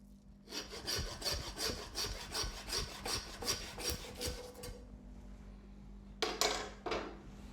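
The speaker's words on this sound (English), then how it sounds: "just at the end of the bottom rib, I'm going to cut straight down. Then with my saw," A hand saw cuts through the bone of a pork loin rack with about a dozen quick, even rasping back-and-forth strokes, close up, then a short pause and a couple of final scrapes.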